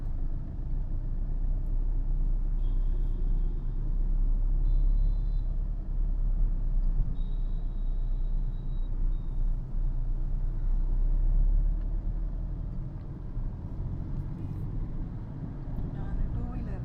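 A car drives slowly along a narrow North Chennai street in second gear, its engine rumbling steadily up close while faint street noise and brief high tones pass by and a person talks over it.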